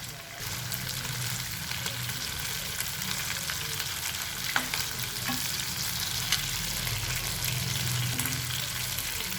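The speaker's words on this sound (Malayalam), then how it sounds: "ഇനി അതൊരു മീഡിയം ഫ്ലെയിമിൽ വെച്ചിട്ട് എല്ലാ സൈഡും ഒന്ന് ബ്രൗൺ കളർ ആകുന്ന വരെ നമുക്ക് ഫ്രൈ ചെയ്തെടുക്കാം." Chicken pieces fry in a pan over a medium flame for a Malabar-style chicken roast, giving a steady close sizzle with occasional scrapes and clicks as the pieces are turned.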